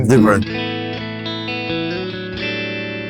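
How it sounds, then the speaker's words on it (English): Sustained electric guitar chords from a Fender Stratocaster with the neck pickup added, a warm, bass-heavy tone ringing out with several strums over a few seconds, preceded by a brief burst of sound. "I just added the neck pickup in, and you can hear a lot of bass."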